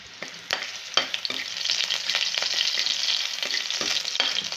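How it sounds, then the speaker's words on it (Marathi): Loud crackling sizzle of chillies, cumin and garlic in hot oil, with sharp pops and spatters throughout; no talking. "चांगली कडक फोडणी करून घ्यायची आहे"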